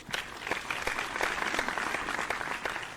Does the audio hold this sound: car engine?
no